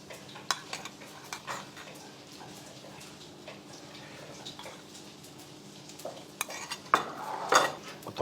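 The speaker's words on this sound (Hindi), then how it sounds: "इसे हम बटर से बास्ट करेंगे।" Butter basting marinated tandoori chicken in a pan: scattered metallic clinks and scrapes of a utensil against the pan, with soft sizzling underneath and a brief burst of louder clatter near the end, no voices.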